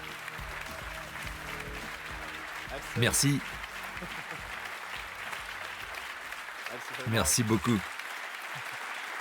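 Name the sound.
audience applause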